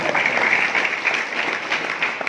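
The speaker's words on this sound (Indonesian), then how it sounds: "Kan tepuk tangan aja, nggak tahu alasannya." An audience of Islamic boarding school students at a sermon gives a dense, steady round of applause, near and fairly loud throughout.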